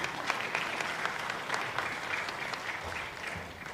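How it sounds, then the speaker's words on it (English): Sustained applause from an audience at a prospectus launch event, steady and moderately distant throughout with a dense wash of overlapping claps. "may I first invite everyone to please give yourselves a big round of applause"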